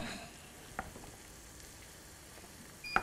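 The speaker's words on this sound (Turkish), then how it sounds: "Şimdi patlıcanları ekliyorum" Eggplants cooking in olive oil with onions and garlic in a pan give off a faint, steady sizzle, broken by a couple of brief clinks near the start and the end.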